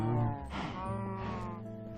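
Sheep bleating in the video game Space Astronomy, two drawn-out, wavering animal calls close up, one after the other, filling the whole moment with no talk.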